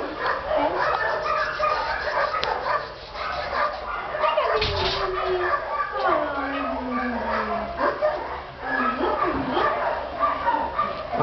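A dog whimpers and yips almost continuously in a cat house, high whining cries rising and falling over a cluttered background while people talk softly nearby.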